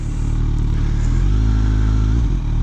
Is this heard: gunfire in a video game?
no